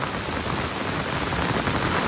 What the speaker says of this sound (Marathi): आणि पाऊस बघा, धो पाऊस सुरुवात झाली परत.